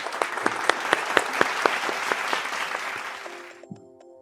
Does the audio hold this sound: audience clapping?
yes